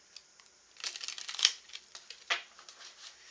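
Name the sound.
shuffling tea leaf card deck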